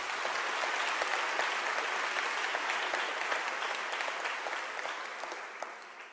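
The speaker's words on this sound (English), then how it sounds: "I think we can give them a nice round of applause." Audience applause for a panel at a university event where former President Thabo Mbeki spoke, a dense, steady clapping from a crowd that tapers slightly toward the end, with no talk over it.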